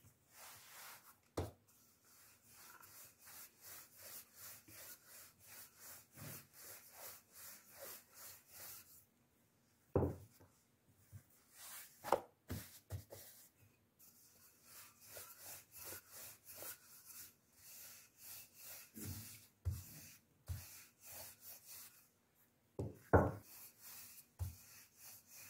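Dough being rolled out with a wooden rolling pin on a floured surface makes a quiet, close rhythmic rubbing and rolling, broken by occasional sharp knocks and short pauses.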